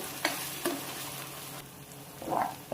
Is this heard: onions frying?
yes